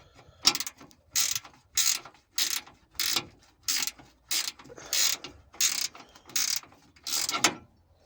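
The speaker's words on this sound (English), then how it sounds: "So you can just undo this bolt here." A bolt on a steel sump guard tray being undone with a ratchet: about ten crisp, evenly spaced bursts of clicking, close and clear, with quiet gaps between strokes and no voices.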